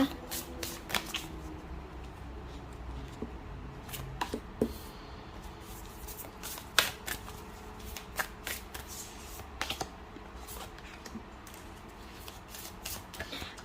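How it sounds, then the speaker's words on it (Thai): Tarot cards are shuffled and dealt out for a love reading, with crisp, repeated riffles and soft slaps of card on card, close and fairly quiet, coming in irregular bursts for the whole stretch. "ขออนุญาตเปิดไพ่ก่อนนะคะ"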